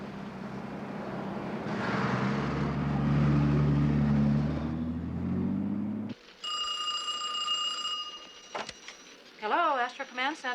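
A telephone rings in a command center, its electronic bell tones chiming in short repeated bursts after a stretch of engine rumble and voices, loud and close.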